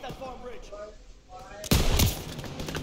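Automatic machine-gun fire in a World War II video game bursts in loud and dense after a stretch of quieter game noise and a voice, then rattles on continuously to the end.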